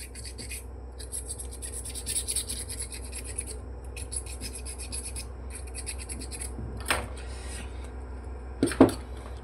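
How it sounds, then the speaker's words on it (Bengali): Insulation is scraped off a wire on a Boray hammer drill motor during repair in short rasping bursts with brief pauses, followed by a couple of sharp clicks near the end. "এখানে আমরা একটু জায়গাটাকে ঘষে নিব, যাতে করে আমাদের যেই ইনসুলেশনটা থাকে উপরে ইনসুলেশনটা উঠে যায়"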